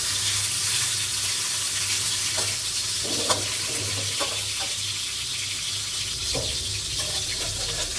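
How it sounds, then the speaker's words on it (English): Meat frying in vegetable oil in a preheated pan for a Thai ramen stir-fry, a steady close sizzle with a low hum beneath and a few soft scrapes, no talk. "Add your meat and fry in the oil until well browned."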